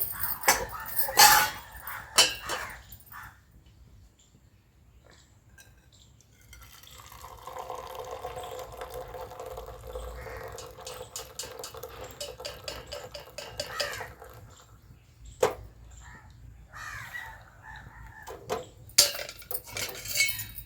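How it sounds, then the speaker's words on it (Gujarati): Boiled water is strained into a vessel. Metal utensils clink and clatter near the start and end, with a stretch of pouring, trickling water in the middle. Sounds are close and moderately quiet, and no one speaks. "હવે આપણું પાણી ગરમ થઈ ગયું છે એટલે આપણે એને ઘારી લઈએ"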